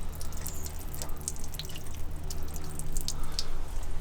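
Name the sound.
water draining out of a campervan boiler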